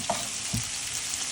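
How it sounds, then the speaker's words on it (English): Vegetables for a harvest hash sauté in a hot pan with a dense, steady sizzle and a couple of soft stirring scrapes, close and alone. "So we're gonna start sauteing this up first, and what we really want to do is get all of this nice and brown"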